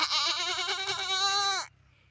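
A boy imitates a goat's bleat with a single loud, wavering, nasal call held for about one and a half seconds before it stops sharply, alone and close.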